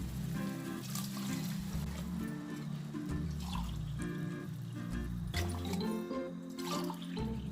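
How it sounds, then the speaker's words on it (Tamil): Water is poured into a pressure cooker holding potato biryani, a steady liquid rush and trickle running throughout with no pauses. "இப்போ தண்ணி ஊற்றிடுறேன்."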